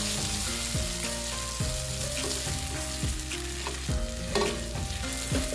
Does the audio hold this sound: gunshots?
no